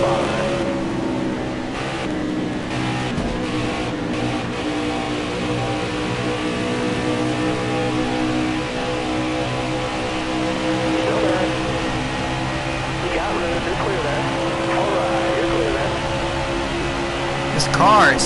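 Stock car engines roar continuously in a NASCAR Heat 4 race at Michigan, a steady droning pack of cars at speed with a rising whine near the end, as someone talks over it.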